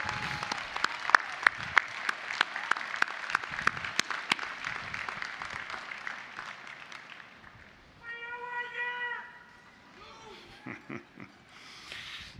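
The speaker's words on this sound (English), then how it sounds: "Graduates, give them a round of applause." Applause for graduates' families and friends at a university commencement, scattered sharp claps for several seconds, then fading into quieter mixed sounds with voices.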